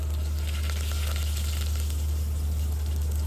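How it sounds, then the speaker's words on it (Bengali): Half a spoon each of garlic paste and ginger paste sizzle loudly and continuously in a little hot oil, a close, steady frying crackle over a low background hum. "সামান্য পরিমাণ তেল নিয়ে 1/2 চামচ পরিমাণ রসুন বাটা এবং 1/2 চামচ পরিমাণ আদা বাটা দিয়ে দিব"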